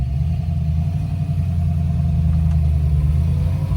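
A black-and-gold 1966 Shelby GT350H Hertz car, converted to a 4-speed, rumbles steadily from close by as it pulls away down the road, with a deep, continuous engine drone and no talking.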